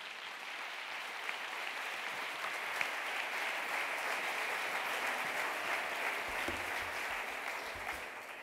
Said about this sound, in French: Thomas Wiesel, que je vous propose d'applaudir.